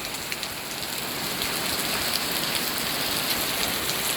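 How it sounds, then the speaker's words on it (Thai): A downpour of heavy rain keeps up a constant loud wash of noise, with scattered drops ticking on nearby surfaces. "ฝนมาแล้วค่ะ"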